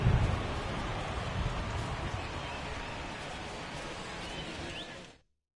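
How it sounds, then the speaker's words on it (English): Rain falls on the ballpark during a weather delay in a Colorado Rockies vs. New York Mets game, a steady broad hiss that holds evenly for about five seconds before ending abruptly. "The rain is here, and it doesn't look like it's going away anytime soon."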